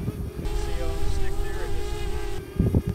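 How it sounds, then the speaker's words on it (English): Heavy wind of about 20 mph buffets the microphone outdoors in a constant low roar, with a steady engine-like hum and a few thumps near the end. "super windy out here. It's like 20 mile an hour winds."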